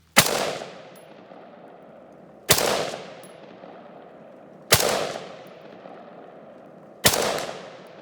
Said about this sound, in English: let's shoot this a little bit